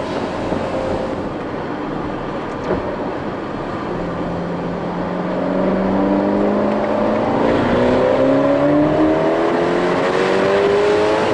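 A Ferrari 812 Superfast's engine accelerates hard while chasing a Ford GT, a loud, continuous roar climbing steadily in pitch through the gears and swelling louder toward the end.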